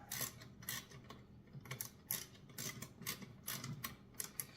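Quiet, close mechanical clicks and ratcheting taps come in irregular bursts as a bolt is tightened on a Tib Machine, a tibialis anterior exercise machine.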